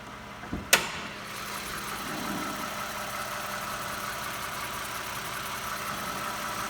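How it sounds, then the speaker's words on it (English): A sharp knock opens, then a 2011 Toyota Sienna minivan engine with timing chains idles steadily nearby, a faint rapid ticking running under the hum. "my phone also picks up small engine noises, so you might hear more ticking than you usually would in person"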